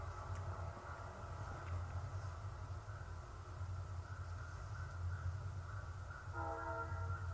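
A train horn blares from a distance near a railroad crossing in Williams, over a steady low rumble of rolling railcars, with a fresh tonal blast near the end.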